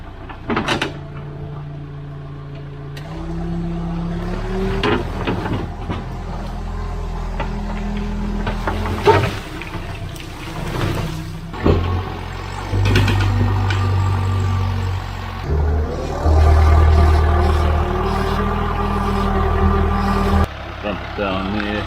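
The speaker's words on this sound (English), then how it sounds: "we'll see if the loader can do it" A salvaged wheel loader clears flood debris, its diesel engine droning and revving under clanks, hisses and scraping as the load shifts; a person talks over the machine at times.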